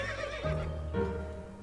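Horse whinnying in the video game To The Moon, a loud, close, wavering neigh lasting over a second, with a faint clop underneath.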